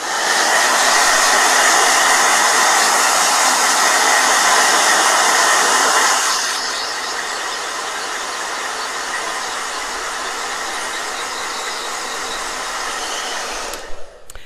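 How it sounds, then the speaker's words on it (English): A blow dryer runs loud and close with a steady high-pitched whooshing roar, then shifts to a lower, softer setting before clicking off at the end. "Blow dryer, hold on"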